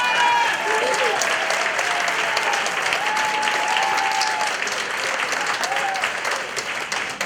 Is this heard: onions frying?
no